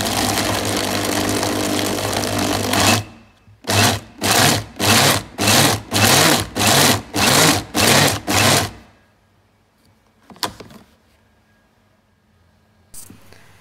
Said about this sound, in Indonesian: Kemudian kita haluskan lagi dengan blender penggiling bumbu tadi.